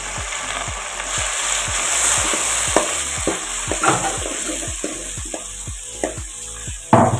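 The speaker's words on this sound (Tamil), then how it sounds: "தக்காளி நல்லா வதங்கிருச்சு" A single medium tomato cooks in a pan with a steady sizzle while a spoon or spatula scrapes and stirs in regular, repeated strokes, close up, with no talking.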